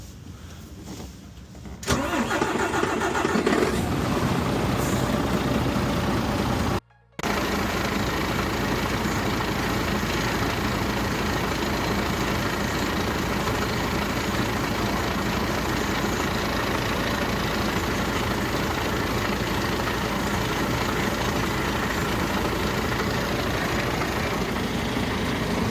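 A DAF CF truck's diesel engine cranks and fires after a couple of quiet seconds, then settles into a steady, loud idle that runs on with a brief cut midway.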